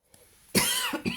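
A single close, sharp cough breaks a quiet moment, followed by a couple of quick smaller coughs.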